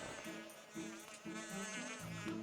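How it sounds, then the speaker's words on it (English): Bees swarming out of a hive in the video game Zelda: Skyward Sword HD, a continuous close insect buzz wavering in pitch over a steady background of game music. "Oh no, that one bee's onto me."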